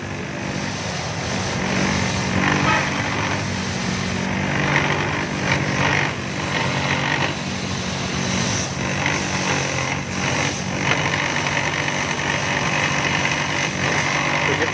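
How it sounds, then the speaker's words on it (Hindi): A grinder cleans spark plugs from a 1996 Xe car engine in a workshop, a steady loud whirring buzz that runs continuously for about fifteen seconds with small fluctuations and no talking. "तो जितने भी प्लग हैं दोस्तों ग्राइंडर की मदद से हम क्लीन करेंगे।"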